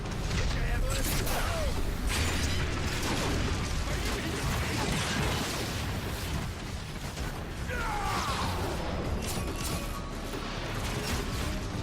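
Loud, dense crashing blasts and mechanical clatter as shells are blown up in Transformers: Fall of Cybertron, a continuous roar of explosions and debris lasting throughout, with voices faintly mixed in.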